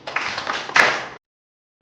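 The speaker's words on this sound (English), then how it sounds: "Very good. Clap for her." Pupils in a nursery and primary school classroom give a short burst of clapping for a classmate, lasting about a second, followed by silence and one faint tap.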